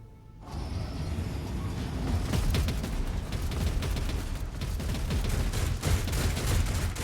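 Defense turrets firing in a Warhammer 40K game, a sustained rattling barrage of rapid shots with mechanical clatter that starts abruptly and keeps up steadily, fairly loud.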